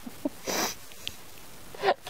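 A small bird sneezes from dust up its nose during a sunrise safari broadcast in Sabi Sand, South Africa, giving a couple of short, sharp bursts close by against quiet outdoor background.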